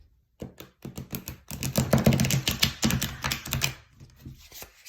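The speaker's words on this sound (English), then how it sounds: "One more good shuffle." Tarot cards are riffled and shuffled in quick bursts of dense, crisp flapping clicks, close and fairly loud, with short pauses between bursts and no voices.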